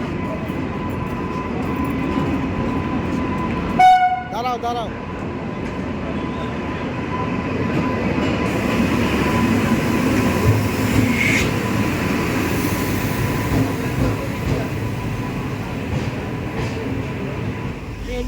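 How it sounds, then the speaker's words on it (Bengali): A passenger train pulls into a station platform on a hot day, a continuous loud rumble of rolling wagons with a brief horn-like tone near the start and a short spoken exclamation over it. "ঢুকে গিয়েছে আমাদের ট্রেন।"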